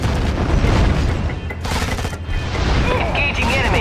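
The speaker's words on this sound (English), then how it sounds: "Opening fire" Dense gunfire from units battling in the real-time strategy game Act of War: Direct Action, continuous overlapping automatic bursts and booms, loud and close, with radio-style unit voices over the shooting.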